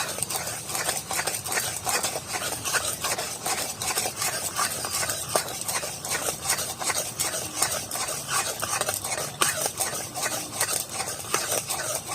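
A papaya mishri mixture is stirred nonstop in a pan, making a continuous, rhythmic scraping and rubbing with quick repeated strokes at a fairly even, moderate level throughout.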